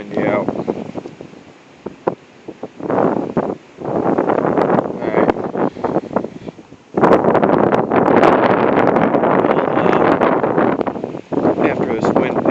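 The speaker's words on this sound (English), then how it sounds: "Really windy out." Strong wind gusts outdoors during a high wind advisory in Portage, Michigan, buffeting the microphone with loud, broadband rumbling bursts that build to a sustained roar, with a few brief dips in between.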